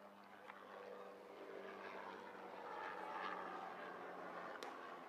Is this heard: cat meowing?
no